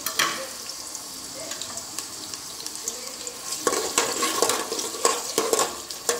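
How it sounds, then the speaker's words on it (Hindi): A medium chopped onion fries in a little under a cup of oil for pulao, with a steady close sizzle that swells with louder stirring and scraping in the second half. "ये एक मीडियम साइज़ प्याज हमने काट लिया है। हम पहले इसका दाग पकाएंगे।"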